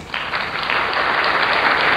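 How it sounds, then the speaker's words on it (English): Applause from a crowd fills two seconds as dense, steady clapping that starts abruptly and stays loud throughout, with no voices over it. "I want to give myself a clap."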